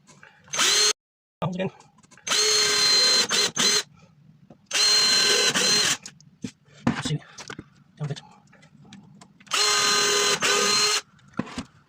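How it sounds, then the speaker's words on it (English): A power drill bores pilot holes into the panels of a homemade laser engraver enclosure box, several loud whirring bursts of a few seconds each with quiet gaps and brief handling noises between. "and then just drill your pilot holes again."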